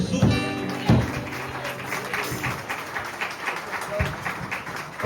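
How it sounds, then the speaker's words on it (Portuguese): A church congregation at a worship service claps, loud and close with dense irregular hand claps and some sustained voices or instruments beneath at the start. "aplauda ao Senhor Jesus"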